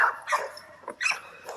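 Dogs in a kennel yard bark and whimper in short, close bursts, a few sharp yips and whines separated by brief pauses.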